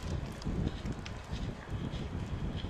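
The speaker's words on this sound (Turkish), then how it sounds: "Rüzgar da tam tepe ya" Strong wind on an exposed hilltop during a forest fire in Ovacık, Karabük, roaring as steady broadband buffeting against the microphone, loud and continuous, with no talking.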